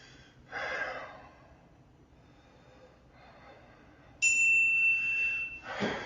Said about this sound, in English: You heard the phone, let's get it.